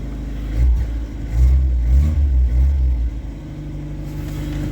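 Car with a four-speed gearbox driving along at a steady pace, its low engine rumble swelling and easing a few times as it pulls, close and fairly loud with no talk.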